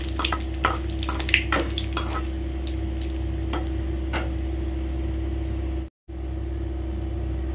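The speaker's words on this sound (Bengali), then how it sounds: "এটা একটু সুন্দর করে ভাজা ভাজা হোক" Crushed cardamom and cumin seeds fry in hot oil in a pan, a soft steady sizzle with a few scattered crackles and pops under a low background hum, fairly quiet, with no talking.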